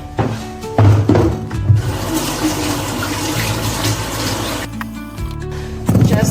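Butternut squash being washed under a running kitchen tap, with steady splashing water and a few thunks and handling knocks, no talking.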